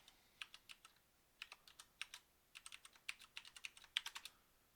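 Someone types a password on a computer keyboard: a quiet run of about two dozen crisp, close key clicks in uneven bursts, with short pauses between them and no voices.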